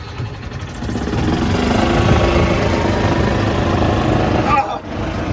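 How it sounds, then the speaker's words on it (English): A 1981 Club Car electric golf cart, a 36-volt Royal Ride with a Rolls-Royce-style conversion, drag racing a 2005 Club Car with a four-stroke Kawasaki gas engine; a steady, loud motor drone runs throughout, dipping briefly near the end. "Golf cart race time, my 1981 club car, Royal Ride, Rolls-Royce conversion, versus a 2005 club car, four-stroke."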